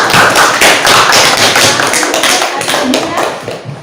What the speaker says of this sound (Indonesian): berikan aplaus untuk kelompok